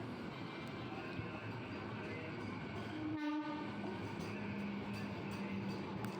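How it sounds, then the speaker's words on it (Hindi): A red UP Sampark Kranti passenger train, running from Hazrat Nizamuddin to Manikpur, rumbles steadily past a station platform, with a loud horn blast sounding briefly midway through the continuous rolling noise. "जो सामने रेड कलर की ट्रेन आई थी, ये यूपी संपर्क क्रांति है, जो हजरत निजामुद्दीन से मानिकपुर यूपी निकल जाती है"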